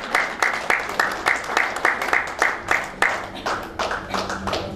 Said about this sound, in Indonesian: berikan tepuk tangan kepada mereka untuk saya undang ke atas panggung